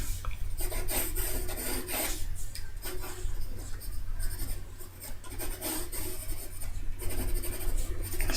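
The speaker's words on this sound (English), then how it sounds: "I'm slowly making some lines a bit darker, the lines that I'm happy with" A colour pencil rasps across sketchbook paper in steady back-and-forth strokes, close and continuous, with brief rhythmic variations as lines are darkened.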